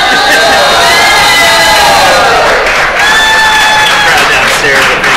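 Crowd cheering from downstairs, onlookers watching a women's curling world championship game on screen, a loud continuous roar of voices and shouts that swells and holds steady throughout.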